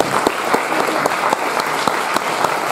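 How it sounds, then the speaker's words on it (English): Audience applause in an indoor evening venue, a steady crowd of hands clapping fairly close and loud, with individual sharp claps standing out, and no talking over it. "give yourselves a round of applause for coming tonight"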